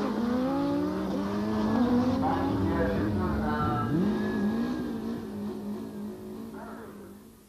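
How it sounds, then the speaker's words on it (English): Drag racing motorcycles roar loudly down a drag strip, engines revving through rising and falling pitch sweeps across the whole stretch, fading slightly toward the end, with crowd or announcer voices mixed underneath. "drag racing at its best"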